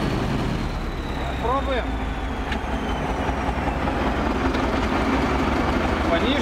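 The diesel engine of a T-130 bulldozer runs with a heavy, low rumble that builds slightly in revs, close and continuous, while someone speaks briefly over it.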